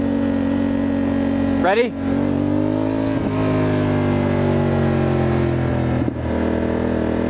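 A Honda motorcycle engine holds a steady high-revving drone while riding, with one quick throttle blip early on and a brief dip later, heard close up under wind and a short spoken word.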